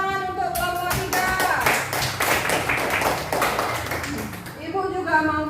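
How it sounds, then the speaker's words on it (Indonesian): A classroom of students claps for group 3, a steady patter of hands running for several seconds alongside speech, with a teacher's voice before and after. "tepuk tangan untuk kelompok 3"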